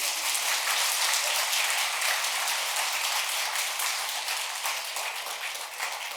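Audience applause at a talk, dense and steady clapping from a large crowd that fills the whole stretch and tapers slightly toward the end.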